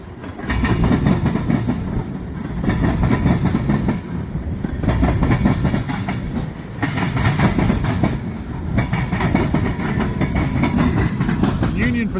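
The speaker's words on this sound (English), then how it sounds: "Definitely a good bit of mixed freight on this train." Long mixed freight train with boxcars rolling past close by, a loud continuous rumble with rhythmic clickety-clack of wheels over rail joints throughout.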